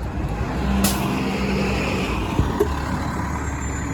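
A 2013-era city bus on Dufferin Street in Toronto passes by on a busy road, with a steady rumbling drone of traffic, a brief hiss and a faint whine.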